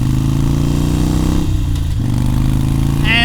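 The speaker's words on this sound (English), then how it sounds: "That's part of a Harley with an Evolution engine." Harley-Davidson Sportster Iron 883 with an Evolution V-twin engine, heard while riding on Route 66: a loud, continuous low rumbling engine drone with a slight dip in pitch midway, steady and close throughout.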